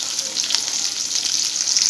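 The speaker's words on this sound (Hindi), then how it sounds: "ପିଆଜଟା ଟିକେ ଲାଲ ଲାଲ କରି ଭାଜିବା।" Chopped onions fry in hot oil for an egg and potato curry, giving a steady, dense sizzle that stays close and even throughout, with no voices.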